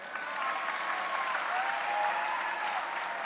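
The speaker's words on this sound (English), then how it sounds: "Give him a round of applause." Audience applause at a leadership summit keynote as a participant is called onto stage, a steady distant wash of clapping from a large crowd with faint whistles, no speech over it.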